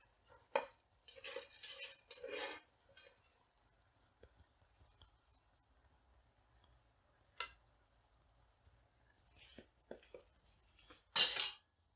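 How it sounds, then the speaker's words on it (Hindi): Leftover rice goes into a pot of lamb chop biryani with scattered light clinks and scraping taps of a utensil against the pot, brief bursts separated by quiet pauses. "अब मैं बकाया के चावल डाल रही हूँ।"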